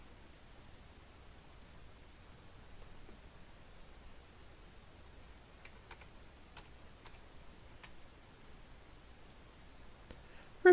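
House numbers typed on a computer keyboard, a few quiet scattered key clicks in short bursts against a faint hiss, with a louder click at the very end.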